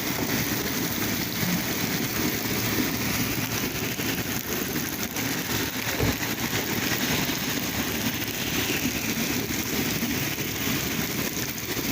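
Heavy winter rain in Saudi Arabia, a dense, constant roar of downpour on surfaces, loud and unbroken, with a low engine-like hum underneath and no voices.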